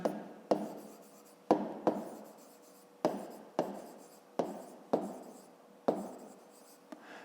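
Pen writing in a school notebook during a fifth-grade maths exercise, with a series of close, distinct scratchy strokes repeating in an uneven rhythm, each starting sharply and fading.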